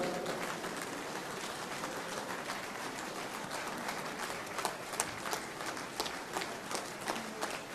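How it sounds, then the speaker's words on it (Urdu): Audience at a Jeddah mushaira applauding to welcome a doctor to the stage, a dense, steady roar of many hands clapping throughout, with sharper individual claps standing out toward the end. "تالیوں کی گونج میں ڈاکٹر صاحب کا استقبال کریں."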